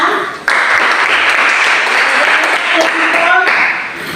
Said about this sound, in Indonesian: Tepuk tangan untuk kelompok rusa.